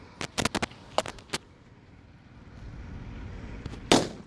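Firecrackers set off during a makeshift cricket game for Diwali, a quick cluster of sharp cracking pops followed by a louder bang a few seconds later, close and outdoors with no voices.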